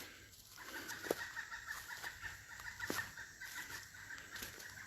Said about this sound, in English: Can you guys hear that bird?